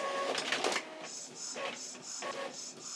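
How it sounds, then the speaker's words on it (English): A home printer works through a black-and-white page, its soft whirring broken by repeated short mechanical passes and clicks in a steady rhythm, fairly quiet and close. "I'm gonna print it in black and white though because I'm cheap and I don't want to use my color."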